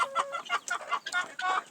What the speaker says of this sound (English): There is a naughty hen.